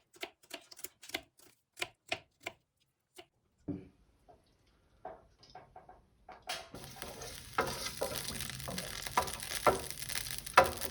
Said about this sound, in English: The soffrittino will be with garlic, anchovies, olives, capers, and a bit of chili.